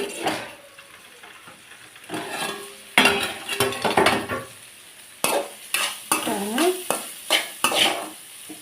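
Bitter gourd cooks in oil in a pan while being stirred, with a spoon scraping and clattering against the metal in uneven bursts over a steady sizzle, close and fairly loud.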